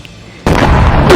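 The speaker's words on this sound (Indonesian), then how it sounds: "tiba-tiba perusahaan Rena pun meledak" A bomb blows up a company building, a sudden loud blast that cuts in abruptly and roars on as a dense, sustained boom.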